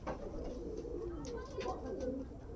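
Pakistani golden Kamagar pigeons coo in low, rolling, overlapping phrases nearby, quiet and continuous, with a few faint higher chirps and soft human voices in the background.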